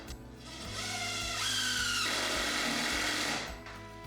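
A power drill drives a screw into a wooden box, the motor spinning up, holding a loud steady whine for about two seconds, then winding down.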